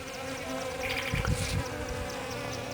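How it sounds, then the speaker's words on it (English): Steady buzzing of bees around a cactus flower close by, a continuous insect drone with a louder swell in the middle as one passes near. "So while the bees are over here enjoying it"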